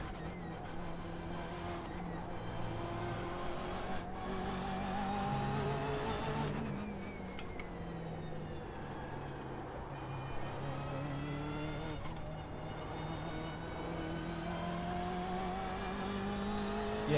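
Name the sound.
race car engine revving, from video game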